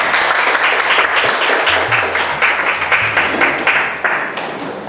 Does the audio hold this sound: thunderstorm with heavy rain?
no